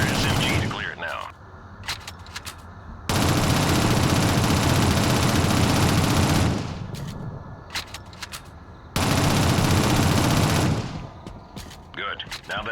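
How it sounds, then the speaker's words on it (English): Submachine gun fire in the video game Shadowrun, two sustained loud bursts of several seconds each, separated by quieter gaps with short mechanical clicks. "Use your SMG to clear it now."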